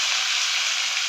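Onions hit hot oil in a pan for tempering, giving a bright, steady sizzle at close range with no talk over it.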